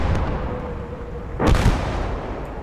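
Mortar fire in the video game Blood Red Snow: a single loud boom cutting through a constant low rumble of battle ambience, close and short.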